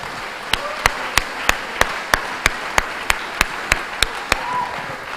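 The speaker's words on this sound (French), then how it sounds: "Acclamons le Seigneur pour cette parole." A church congregation claps together in a steady, even rhythm, about three sharp claps per second, loud and close, over a low murmur of the room.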